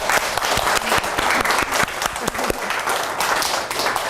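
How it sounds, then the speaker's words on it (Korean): A seminar audience at a children's camp training event breaks into warm, dense applause, many hands clapping together close by and sustained throughout, with a little background voice mixed in. "박수 한번 쳐주세요."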